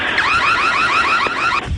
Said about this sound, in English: Every time I put the key in the door, the alarm goes off like so.